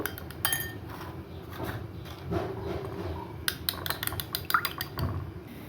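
Eggs spiced with ginger, garlic, cumin powder, salt and a pinch of chili powder being beaten in a bowl, with quick, uneven clinks and taps of a utensil against the dish, fairly faint, coming in bursts with pauses.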